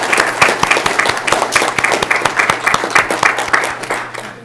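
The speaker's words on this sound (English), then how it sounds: "let's go ahead and just give this group a round of applause" Loud, close clapping from a group at a mock city council meeting, with distinct sharp individual claps in an uneven rhythm that thin out toward the end.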